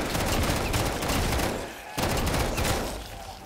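Rapid gunfire in the Black Ops 3 custom zombies Bus Depot map rattles in dense, continuous bursts, loud and close, with one short break partway through.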